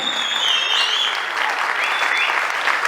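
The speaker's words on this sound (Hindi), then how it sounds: "अरे दिल से सीटियां और तालियां बजा लो" An audience at an award felicitation for a singer whistles and applauds, with several shrill sliding whistles rising over dense, continuous clapping throughout.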